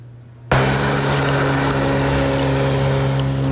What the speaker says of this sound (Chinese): 外号海宝贝的马古拉 V5 无人艇是乌克兰军情总局特种作战部队的抗俄利器。